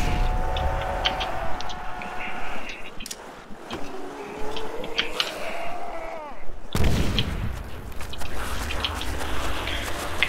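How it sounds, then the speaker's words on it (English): Grenade explosions in Call of Duty: World at War custom zombies on PC ring out as booming blasts amid game sounds. A sharp, loud burst near the midpoint cuts into dense noise that continues to the end. "I'm gonna throw a couple of grenades just to start off"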